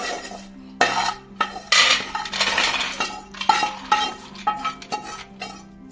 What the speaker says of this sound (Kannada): ಬೌಲ್ಗೆ ಶಿಫ್ಟ್ ಮಾಡ್ಕೊಳ್ಳೋಣ.